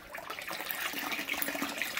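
Water from a garden hose pours into a pool pond, a steady splashing, gurgling rush at low to moderate loudness, continuous for the whole couple of seconds with no voices.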